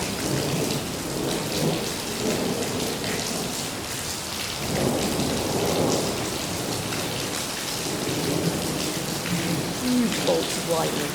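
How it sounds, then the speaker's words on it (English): Heavy rain pours down during a severe Dubai thunderstorm, a broad steady wash of downpour with swelling rumbles of thunder rising and falling across the clip. "Large amounts of rain coming down now."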